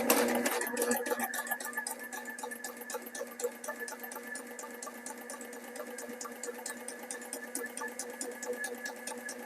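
A Sailrite Ultrafeed LS walking foot sewing machine stitches quilting cotton, running in a steady rapid clatter of needle strokes that holds an even pace from start to finish.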